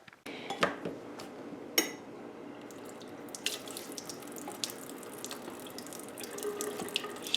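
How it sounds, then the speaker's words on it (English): Tap water runs steadily into a sink while dolls are washed and shampooed, with occasional clinks and knocks of handling over the continuous flow and no voices. "I'm just going to start out by washing and shampooing each doll"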